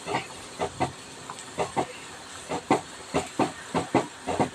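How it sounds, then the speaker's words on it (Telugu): Vermicelli semiya payasam boiling in a pot, giving a steady run of thick bubbling plops about every half second over a continuous close steamy hiss. "ఇది ఉడుకుతుంది, కొంచెం ఉడకాలి సేమియా కాస్త."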